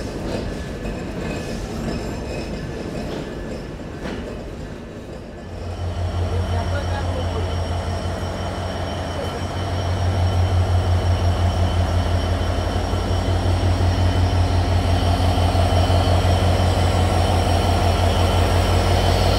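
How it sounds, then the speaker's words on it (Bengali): A modern 63-series diesel locomotive pulls into Rajbari railway station with a loud, steady engine drone and rattling wheels that swell and hold, a busy platform murmuring underneath. "আমাদের লোকোমোটিভ পুরো ঢ্যাং ঢ্যাং ঢ্যাং ঢ্যাং শব্দ করতে করতে প্রবেশ করলো।"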